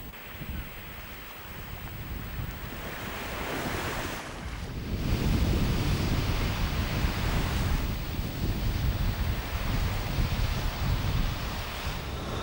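Surf breaking along the long beach toward the point on Houat island in Brittany, a continuous roar swelling louder midway, mixed with gusty wind buffeting the microphone, steady and fairly close with no voices.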